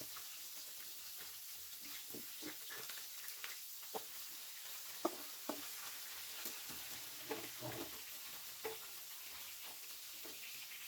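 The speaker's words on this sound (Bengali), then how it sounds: "ভাজা হয়ে গেছে মাছগুলো" Pieces of rohu fish fry in hot oil, giving a soft, steady sizzle with scattered small pops and spatters.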